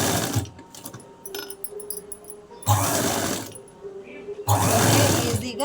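A sewing machine stitches lace onto a blouse, its whirring bursts starting and stopping in several close, loud runs with quieter handling sounds in between.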